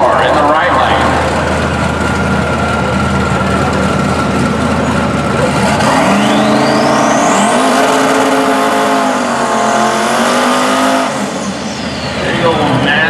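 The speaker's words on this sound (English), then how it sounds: "Big old nasty burnout. The left lane." Cadillac CTS-V drag car doing a loud, sustained burnout in the left lane at a heavyweight semifinal drag race, engine roaring at high revs with rising pitch sweeps, while an announcer talks over it.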